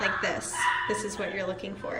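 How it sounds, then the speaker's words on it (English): A dog barks repeatedly in short yips beneath a person talking steadily nearby at a workplace. "I apologize about the barking, but I'm at work,"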